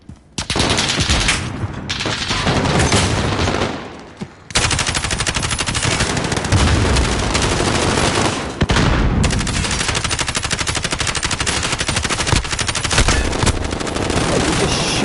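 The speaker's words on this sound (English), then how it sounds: "And he's just shooting, hoping to hit somebody." Call of Duty gunfire in a competitive Wargames match rattles in loud, sustained automatic bursts with short gaps, dominating the sound with almost no voice over it.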